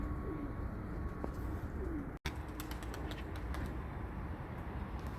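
A male smoky dirty-plumaged pigeon coos softly in short low calls over a steady background hum, with a few clicks and taps scattered through.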